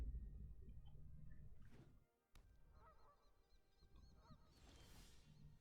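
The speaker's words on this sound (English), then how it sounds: "Oh, there's the goose. Right on time, Mr. Goosey." Cartoonish goose honks from the Magic Arena card game, Historic format, sounding as repeated bright honking calls over a soft background, briefly interrupted by a short dropout midway.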